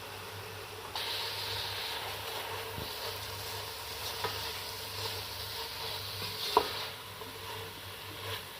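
Shredded cabbage and finely cut bell pepper frying in a pan, a steady close sizzle with soft stirring scrapes and an occasional sharp clink, with no talking.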